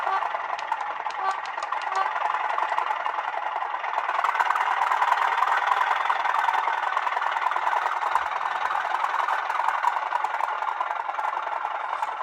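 A model Class 37 diesel locomotive in Colas livery with a sound decoder, its engine idling then revving up to a steadier, louder diesel drone with a light rattle, with faint talk over it.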